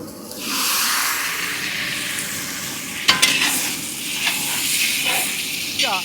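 Tomatoes drop into a large pan of frying onions, likely cooked in bulk for fried rice, bringing a loud steady sizzle and hiss with scraping stirs and brief clatters, while voices chatter faintly in the background.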